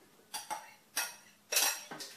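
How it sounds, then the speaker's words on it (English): Mushroom mixture is tipped from a bowl into a blender, giving four separate clattering knocks and scrapes of utensil and container, close and fairly loud, with no talking. "So I'll just put this into the old blender."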